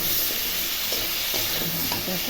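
Black cumin seeds, onion and salt frying in hot oil, a close, loud and constant sizzle with a utensil stirring and scraping the pan in a roughly regular rhythm about every half second.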